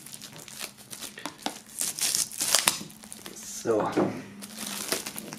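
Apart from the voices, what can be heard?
unwrapping a box from plastic foil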